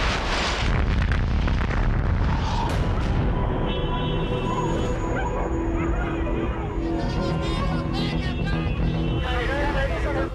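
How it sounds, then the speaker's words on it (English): Chain-reaction explosions at an ammunition depot in Riobamba, Ecuador, set off by a dropped artillery shell: continuous heavy booms and rumbling blasts, with shouting voices and talk mixed in throughout. "A dropped artillery shell in an ammunition depot sparks a chain reaction of explosions."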